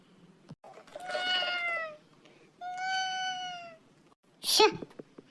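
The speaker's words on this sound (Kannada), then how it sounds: "ಇದು ಬೆಕ್ಕ ಎಲ್ಲಿಂದ ಬಂದಿದ್ದಿತ್ತಿದೆ ನೋಡ್ರಿ" A cat inside a house meows three times, two drawn-out harmonic meows followed by a sharper, louder cry, close by with quiet room sound between.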